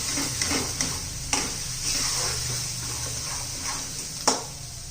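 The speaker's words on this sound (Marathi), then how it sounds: "चांगलं तेल सुटेपर्यंत आपण हे परतून घेणार आहोत." Ground masala paste sautés in oil in a pan for a spicy bitter gourd curry, giving a soft, steady sizzle with a few faint stirring clicks, close by.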